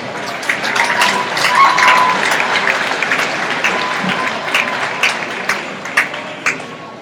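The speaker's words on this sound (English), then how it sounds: "Let's give them a round of applause." Audience applause at an evening university livestock-show awards event: a steady patter of many hands clapping that continues throughout, with a few sharper individual claps standing out near the end.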